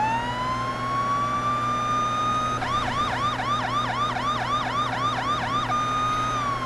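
A police car siren in the video game Police Simulator: Patrol Officers wails steadily, then switches to a rapid yelping warble for a few seconds before returning to the long wail, loud and close over a low engine hum.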